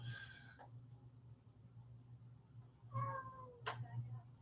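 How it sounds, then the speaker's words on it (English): A house cat meows twice, once at the start and again near the end, fairly close in a quiet room with a steady low hum underneath. "I lost my train of thought because of the cat."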